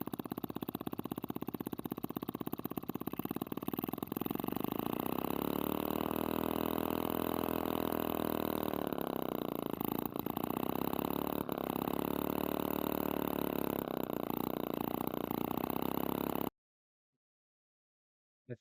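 A small homemade motor runs at a steady pitch, buzzing and droning continuously for about sixteen seconds. Its tone wavers slightly, with a few sharp clicks, then it stops dead into silence.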